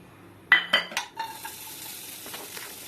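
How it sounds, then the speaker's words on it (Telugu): Dry fruits and chironji seeds tossed in about a tablespoon of ghee in a pan for sheer khurma, a few sharp metallic clinks of the spoon against the pan followed by a low steady sizzle, close by. "స్టవ్ ఆన్ చేసుకొని 1 టేబుల్ స్పూన్ వరకు నెయ్యి వేసుకొని ఈ డ్రై ఫ్రూట్స్ అన్నీ అందులో మనం ఫ్రై చేసుకోవాలి"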